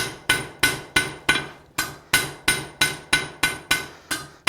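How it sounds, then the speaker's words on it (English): Steady, ringing hammer blows strike metal on an anvil while forging a fire poker, about three per second, each sharp clang decaying quickly before the next, close and clear. "I'm not running my hammer all over my anvil. My hammer's staying in pretty much the same spot."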